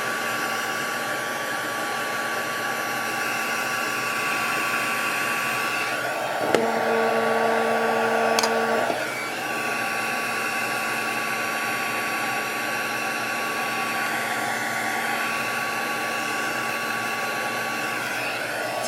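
Heat tool blowing steadily while melting ultra thick embossing enamel, a loud continuous fan whine and rush of air held close throughout, with a brief change in tone partway before settling back to the same steady roar.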